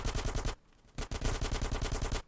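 Rapid automatic gunfire from a GTA San Andreas shootout, dense bursts of repeated shots with a short pause before the firing resumes, loud and close with no talking.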